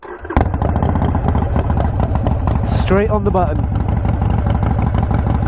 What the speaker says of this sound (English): let's hear what this bike sounds like with the Vance & Hines short shots